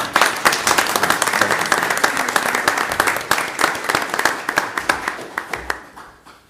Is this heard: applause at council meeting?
yes